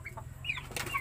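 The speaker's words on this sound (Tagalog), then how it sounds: "So, ito yung inahin natin," A mother hen clucks in short, scattered bursts at a farm nest, mixed with other chicken calls and faint rustling over a steady low background hum.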